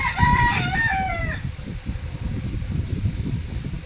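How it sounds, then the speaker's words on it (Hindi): A rooster crows once loudly nearby in the early morning around a mandir altar, followed by steady low clucking and scratching from chickens. "मुर्गी भी आवाज़ कर रहा है"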